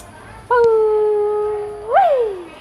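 A dog howls close by, one long sustained wavering note followed by a second rising and falling howl, clear and loud over quiet background.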